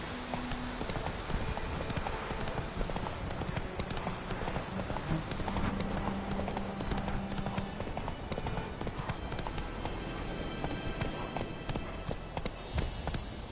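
Horse hooves clip-clopping in a steady trotting rhythm in The Witcher video game, close and continuous over an ambient game soundscape, with a brief voice over it.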